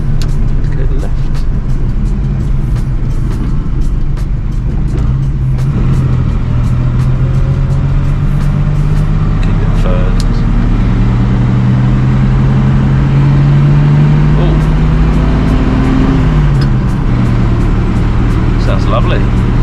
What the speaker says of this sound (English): Lovely, beautiful straight 6 engine